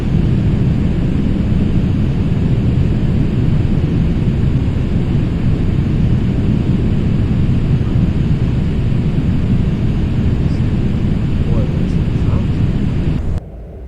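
Tupolev Tu-154 airliner in LOT livery in flight in Flight Simulator X, a steady, loud, broadband engine and wind roar that holds evenly throughout and cuts off abruptly just before the end.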